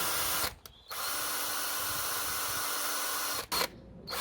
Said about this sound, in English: Put the drill on the one end.